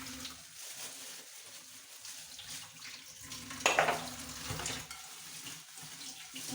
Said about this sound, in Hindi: मैं आप लोगों के सामने बर्तन वॉश करूंगी